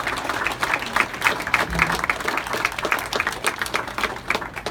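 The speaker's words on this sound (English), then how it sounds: "So please give them once again a nice round of applause." A crowd applauds bowlers at the opening ceremony of a final tournament in a bowling alley, steady moderately loud clapping from many hands with a low hum underneath.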